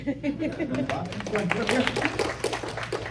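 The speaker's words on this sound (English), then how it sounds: "you want to clap for that?" Audience clapping at a Connecticut Libertarian Party debate, a steady patter of hands running the whole way through beneath a speaking voice.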